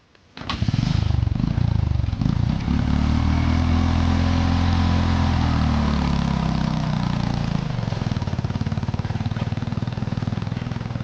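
A motorcycle engine starts and idles loudly and steadily nearby, with a rough, throbbing rumble that continues throughout.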